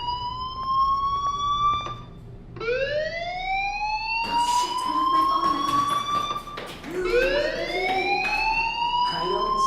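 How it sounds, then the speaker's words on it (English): Electronic fire alarm sounding in the game Life is Strange, rising wailing sweeps repeating every couple of seconds, loud and steady with faint noises underneath. "do you hear that fire alarm?"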